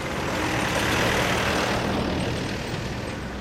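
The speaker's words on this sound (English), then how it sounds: "That was another vehicle going by." A passing road vehicle, likely a heavy truck or bus, sweeping by with a loud broadband roar that swells and then fades over a few seconds.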